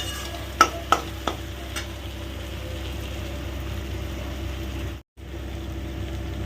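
Soybean tadka with cumin and coriander powder is stirred in a pan: a few sharp scraping clicks at the start, then a soft, steady sizzle continuing alone with a brief dropout.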